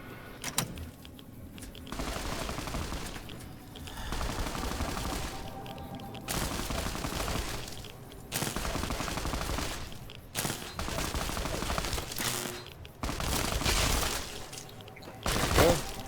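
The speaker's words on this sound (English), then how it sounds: "Turret takes out 2 more ghoul troopers." Turret gunfire in Fallout: Tale of Two Wastelands mows down ghoul troopers, with repeated sustained bursts of rapid shots separated by short pauses, loud and continuous throughout.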